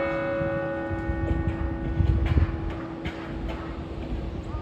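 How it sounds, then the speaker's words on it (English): Church bells ring steadily at a moderate distance, their overlapping tones sustained throughout with a low rumble beneath. "I love church bells."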